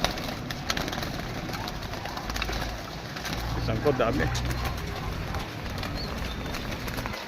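Pigeons cooing outdoors, soft low coos buried under nearby people talking and general background noise, brief and faint.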